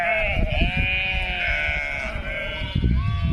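A flock of sheep bleats repeatedly as the animals walk along together toward their night shelter, overlapping calls near and far over continuous shuffling movement, with no talk.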